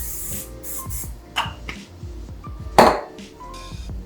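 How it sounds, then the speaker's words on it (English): A short hissing burst of cooking spray onto a pan near 2.8 seconds, surrounded by light clinks and taps of kitchenware. "So I'm just gonna spray my pan."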